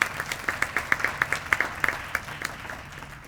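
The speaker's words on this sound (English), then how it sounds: "give yourselves a round of applause" An audience at a Phi Theta Kappa Day 2016 event claps with sharp, evenly spaced claps in a brisk rhythm that thins out toward the end, and no voices are heard.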